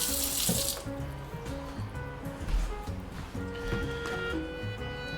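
Very hot water pours from a kitchen sink tap in a steady, close splashing stream, briefly louder at the start, then running on with faint voice and kitchen sounds underneath.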